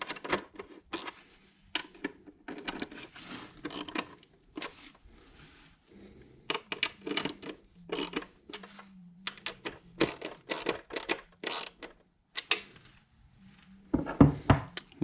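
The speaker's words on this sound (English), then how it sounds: "we'll go ahead and snug these up" Bolts are snugged down on a Memphis Shades Road Warrior fairing mount for a Harley-Davidson Sportster, with a wrench or ratchet giving quick bursts of rapid clicking and ticking separated by brief quiet gaps.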